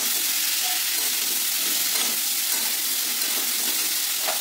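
Star fruit chutney with salt and turmeric cooking in a pan, a loud continuous sizzling hiss with faint stirring scrapes barely rising above it, close and unbroken.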